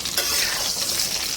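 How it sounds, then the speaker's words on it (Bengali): Pointed gourd (potol) frying in oil makes a steady, moderately loud sizzle with a brief clatter near the start, and there are no voices. "এবার আমি পটলগুলো ভেজে নিচ্ছি।"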